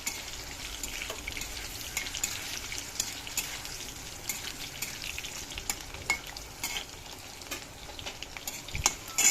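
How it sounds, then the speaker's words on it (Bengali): Potatoes frying in a pan in a home kitchen, giving a steady soft sizzle with light stirring scrapes and occasional clicks, moderately quiet and close, with no talking. "আলুটা ভাজা হলো, আলুটা ভাজা"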